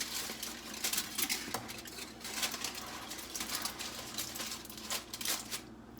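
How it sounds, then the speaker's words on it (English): A spoon stirs thick, sticky homemade beef stew in a pot, giving a steady run of scraping clinks and soft wet squelches against the metal, close by and fairly quiet, with no talking. "I'm just stirring it because it's really sticky."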